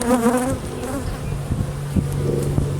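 Honey bees buzz in a steady, dense drone around a hive whose deep boxes have just been separated during a split check, with a few soft knocks rising above the hum.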